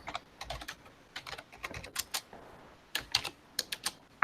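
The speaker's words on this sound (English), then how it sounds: "Somebody's typing away." Quiet typing on a computer keyboard, irregular bursts of soft clicking keystrokes with short pauses between flurries, faint and somewhat distant in a quiet room.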